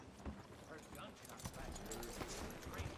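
Horse hooves clip-clop at a steady walking rhythm in the Western video game Red Dead Redemption II, fairly close and moderately loud, mixed with game ambience while someone talks over it.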